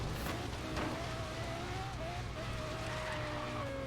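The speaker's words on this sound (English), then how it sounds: "Yep, I'm racing. I'm in the LFA" Engine of a Lexus LFA race car in a racing video game, a steady drone with rising and shifting whine tones as it accelerates through gears, continuous throughout with no talk.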